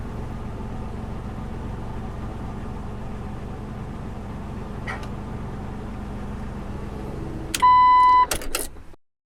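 Car engine idling steadily after a fresh oil change, a low continuous hum that runs for several seconds before a chime sounds and the engine shuts off into silence.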